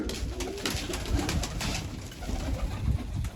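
Pigeons coo repeatedly nearby, soft throaty calls overlapping with fluttering and rustling, no talking.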